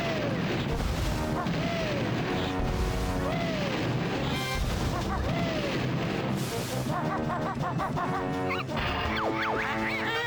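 Mortar explosions in the video game Banjo-Tooie sound as a series of booming crashes over steady game music, with several thuds spread through the stretch.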